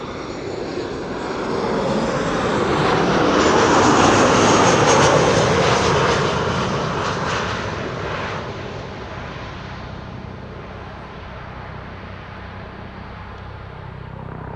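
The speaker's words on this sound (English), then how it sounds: "This is a 737-700 KLM flight 1754 arriving from Hamburg." A KLM Boeing 737-700 arriving at Schiphol sweeps past with a loud, rising jet roar that peaks mid-pass and then fades into a lingering rumble as it lands.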